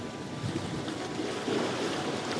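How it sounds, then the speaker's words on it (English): Ocean waves roll onto the Scottish coast in a steady, soft wash, mixed with wind noise buffeting the microphone, with no voices present. "Got waves coming in from left to right."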